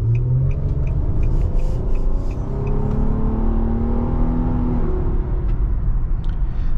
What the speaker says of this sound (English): We're gonna go ahead and do an acceleration right here.